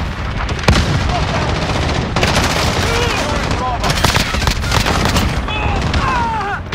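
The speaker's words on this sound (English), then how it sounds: "Like sounds like a fucking shotgun." Gunfire in a Call of Duty: Modern Warfare online match, loud bursts of shots and rattling automatic fire cracking over constant battle noise, with a few sharper blasts standing out and players talking throughout.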